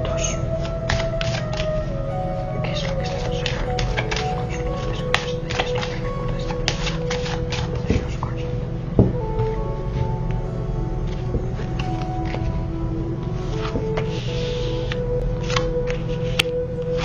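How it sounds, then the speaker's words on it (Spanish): Tarot cards are shuffled by hand for a steady seventeen seconds, with dense riffling and light slapping at an even rhythm, close and moderately loud, while a low hum or soft voice runs underneath. "mientras yo barajo las cartas y hago mi oración"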